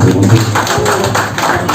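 Crowd applause at a music event celebrating the music industry, a dense run of clapping that swells in several waves, fairly loud and close, with some voices mixed in.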